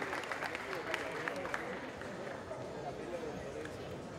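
Scattered applause rises from spectators at a dairy cattle contest, steady clapping mixed with crowd murmur and a speaking voice, moderately distant and continuous throughout.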